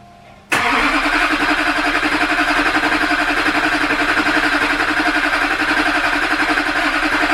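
A Duramax diesel pickup engine starting after an injector install, cranking abruptly into a loud, steady rumbling idle with a rhythmic diesel clatter, close by and alone.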